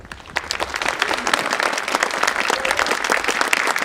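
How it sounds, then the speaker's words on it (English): Audience applause at a middle school Veterans Day breakfast celebration, a dense, steady burst of many hands clapping throughout, fairly loud with a faint murmur underneath. "Round of applause, please."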